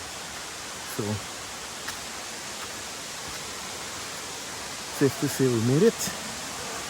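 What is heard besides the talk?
Adelphi Waterfall, Grenada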